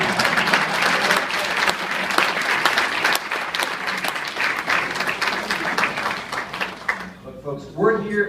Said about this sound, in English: We can keep clapping for Jim.